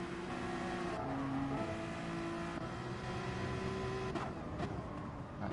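A race car engine in the GT Sport video game holds a loud, sustained whine, with pitch shifting in steps as gears change, alongside other cars droning close by and no voices.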